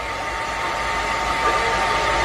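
A hair dryer blows in a loud, steady, continuous rush of air, close and unbroken throughout.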